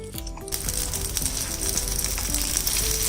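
Veg tacos crisp in a pan with a bright, steady sizzle and crackle, broken by a few light scrapes and clinks.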